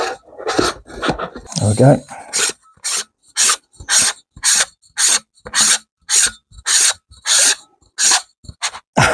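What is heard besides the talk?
sunshade being screwed onto a rifle scope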